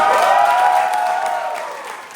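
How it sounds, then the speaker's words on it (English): Audience applause and cheering for Benson at a platform Q&A event, a dense wash of clapping from a crowd that stays loud and then slowly tapers off. "round of applause for Benson"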